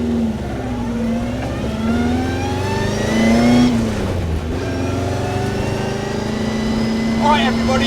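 Engine of a JDM-powered Austin Healey Sprite race car revving and pulling through gears from inside the car, a loud rising and falling drone with shifts, and a voice talking over it.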